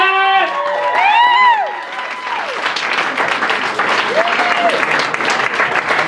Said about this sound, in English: Everyone, please give a big round of applause for Russell Hamilton!